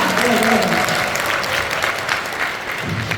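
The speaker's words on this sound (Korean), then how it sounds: "여러분 여기서 박수가 나와야 됩니다" An audience at a business rally in a hall breaks into sustained applause, a dense, loud wash of clapping from many hands that holds steady throughout, with voices faintly mixed in.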